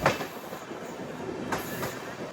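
An LHB-coach Tirupati Express rolling out past Anaparthi, a continuous muted hiss and rumble of wheels with a few light clickety-clack beats.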